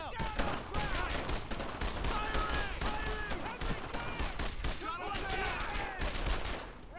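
Dense rapid gunfire from a World War II shooter game, Brothers in Arms: Earned in Blood, with machine-gun bursts and rifle shots rattling continuously for several seconds, loud and close, with faint voices in the mix.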